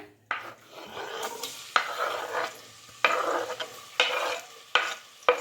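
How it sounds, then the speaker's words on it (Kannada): Finely chopped onions fried with cinnamon, cloves and cardamom in a pan, stirred in repeated scraping strokes about once a second over a soft sizzle. "ಸಣ್ಣ ಸಣ್ಣದಾಗಿ ಈರುಳ್ಳಿ ಕಟ್ ಮಾಡಿಕೊಂಡು ಚೆನ್ನಾಗಿ ಫ್ರೈ ಮಾಡ್ಕೊಂಬಿಡೋಣ"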